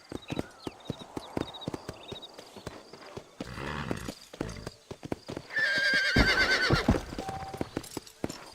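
Horse in the Red Dead Redemption game, with steady hoof clip-clops at a gallop, then a loud drawn-out neigh near the end, plus faint game ambience.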